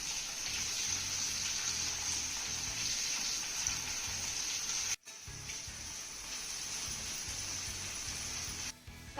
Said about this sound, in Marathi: आता हा कांदा देखील आपण हलक्या सोनेरी रंगावरती परतून घेऊया.